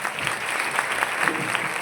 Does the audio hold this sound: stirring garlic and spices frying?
no